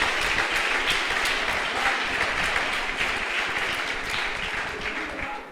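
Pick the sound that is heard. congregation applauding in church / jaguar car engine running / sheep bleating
congregation applauding in church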